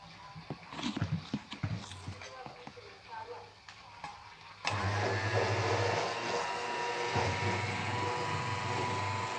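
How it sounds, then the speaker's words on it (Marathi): Eggs for cake batter are beaten by machine: brief clatters and taps come first, then a loud, steady whirring drone runs without a break to the end. "टाकल्यानंतर परत फेटून घेऊ आपण त्याला"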